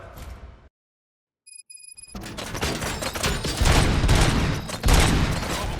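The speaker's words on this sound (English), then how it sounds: "Gunshots? What's going on?" Gunfire in RoboCop: Rogue City: rapid bursts crackle and boom continuously after a short silence and a few electronic beeps, loud and dense, like a heavy firefight.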